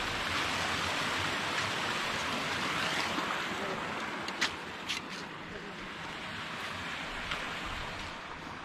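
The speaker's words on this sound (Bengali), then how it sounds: "এইখান থেকে জলটা এভাবে আসছে।" Steady broadband rush of water flowing and spilling through a gated channel at an ashram, continuous and fairly loud, with faint voices now and then.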